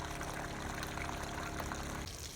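Water gushes steadily out of a farm sprayer tank as it is drained, a continuous close splashing rush that eases off slightly toward the end.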